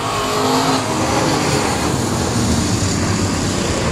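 A pack of 600 mini sprint race cars accelerating hard on the oval at Heart O' Texas Speedway after the restart, a loud, dense roar of many high-revving engines close by, filling the whole moment.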